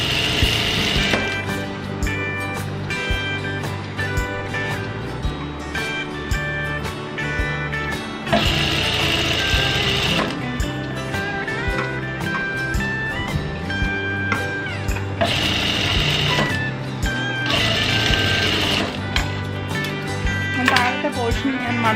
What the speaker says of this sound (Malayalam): ലൈനിങ് കൂടെ ചേർത്തിട്ടാണ് ഞാനിപ്പോൾ മടക്കി അടിക്കുന്നത്.